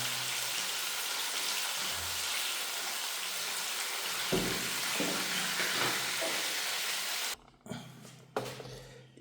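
Dumplings fry in hot oil beside freshly caught river fish, giving a steady, close, crackling sizzle that runs unbroken before cutting out into a few choppy bursts at the end.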